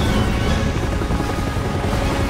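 Helicopter in the Resident Evil 6 video game, a steady loud rotor and engine roar filling the whole clip with no break and no talk.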